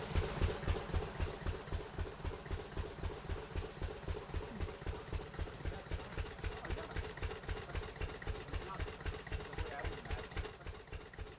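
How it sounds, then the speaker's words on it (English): A diesel pump engine pumping water for farms in rural southern Morocco chugs steadily close by, a loud, rhythmic low thumping that holds an even pace throughout. "This is a diesel pump, and they're pumping the water for the farms."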